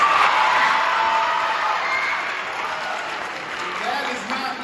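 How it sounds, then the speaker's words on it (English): Applause from an audience at a middle school cross country team awards event, a steady, dense wash of clapping with some cheering and whoops mixed in, loud and sustained throughout, with speech also picked up over it. "Let's give her a round of applause."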